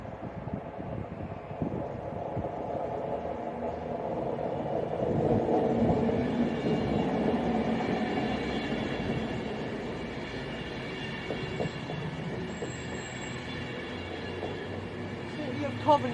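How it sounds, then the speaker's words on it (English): An Avanti West Coast Pendolino train passes through Sandwell and Dudley station with a rising and fading rumble and a faint whine, at moderate distance, with soft talk in the background. "oh, the Pendolino has come first"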